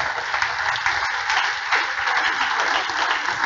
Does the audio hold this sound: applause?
yes